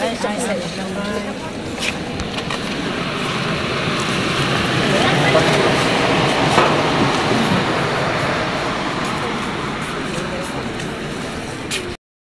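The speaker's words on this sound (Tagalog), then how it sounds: "Ayan ang LRT." An LRT light rail train in Baclaran, Manila, rumbles past a market area, its noise swelling to a peak midway then easing off, with voices talking over it at the start.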